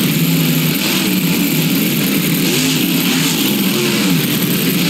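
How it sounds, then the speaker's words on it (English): Zombie monster truck engines in BeamNG Drive grind along in a harsh, continuous mid-range drone with slight wavering pitch, loud and steady with no talk over them. "I can hear zombie monster trucks."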